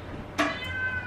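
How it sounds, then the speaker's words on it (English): A pet cat meows once, short and fairly clear, somewhat back from the microphone in a quiet indoor room with no talking. "You're gonna have to excuse my cat in the background"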